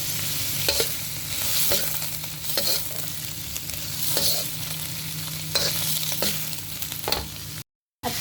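Chicken liver frying in a hot pan while being stirred, with a steady sizzle throughout and repeated scraping strokes of the utensil every second or so, close and fairly loud, ending in a brief silence.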